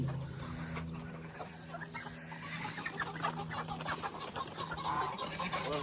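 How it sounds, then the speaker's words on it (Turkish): A hen in a garden clucks softly and repeatedly over a constant outdoor hum, with no voices. "Horoz mu tavuk mu? Tavuğa benziyor. Tavuk tavuk."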